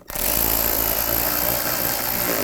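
Power screwdriver running steadily as screws are driven in to fasten a front panel on a 2007-16 GMC Acadia, a loud continuous whir close by with no talk.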